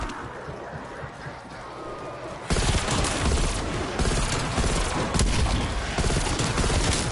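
Die Machine wonder weapon firing in Call of Duty Zombies solo survival, a dense sustained burst that kicks in loudly partway through after quieter game ambience and continues steadily to the end.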